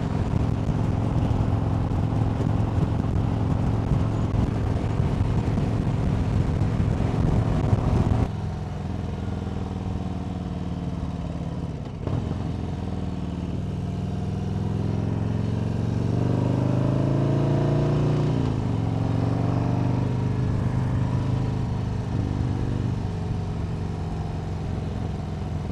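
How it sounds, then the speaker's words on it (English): A 2025 Harley-Davidson Low Rider ST motorcycle cruising on an open road, its V-twin engine droning steadily with wind rush, shifting gears and rising in pitch as it accelerates, close and continuous; no talk. "I'm just having such a good time riding this bike."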